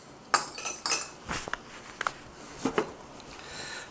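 A metal whisk scraping and clinking against a pan while Creole sauce is stirred for frog legs, irregular sharp taps and rattles scattered over a few seconds, close but fairly quiet, with no talk.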